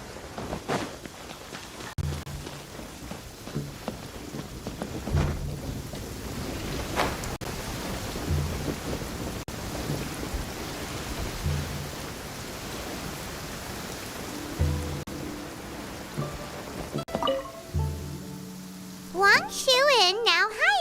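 Steady rain hisses across an outdoor scene in the video game Genshin Impact, with soft rumbles and a few sharp cracks like distant thunder, while game characters speak over it.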